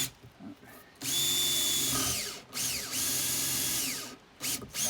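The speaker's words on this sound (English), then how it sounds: "just drill a little hole here." A power drill whines in several bursts, revving up and winding down between runs, loud and close, with a grinding bite as it bores small holes into a log for growing shiitake mushrooms.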